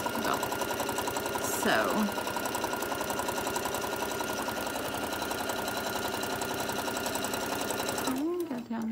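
A sewing machine stitches a fleece-and-insulated-fabric bottle koozie, running as a steady rapid mechanical drone close by for most of the span before stopping near the end, with a brief spoken word over it.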